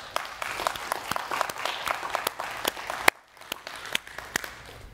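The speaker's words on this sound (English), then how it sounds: "Give these guys a round of applause" A church congregation applauds volunteers from the children's and infant ministry, with dense, fairly close clapping that briefly dips around the three-second mark before picking back up at a lighter level.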